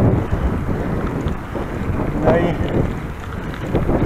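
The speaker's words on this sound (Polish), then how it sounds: "dostawałem bardzo mocne podmuchy" Strong wind gusts sweep across open ground beside Lake Gorzałkowice on an evening ride, buffeting the microphone with a steady, loud roar that swells and eases, with a brief voice near the start.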